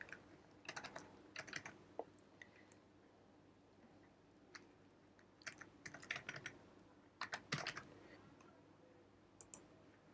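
Quick bursts of typing on a computer keyboard as an amount is entered into a bank account form, soft clustered keystrokes close by with short pauses between groups.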